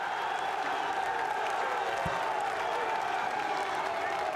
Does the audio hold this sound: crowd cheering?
yes